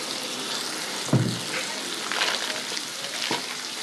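Ground coriander, cumin and turmeric sizzling in hot oil in a pan, a close, steady frying hiss with a sharp crackle as they hit and a few stirring scrapes.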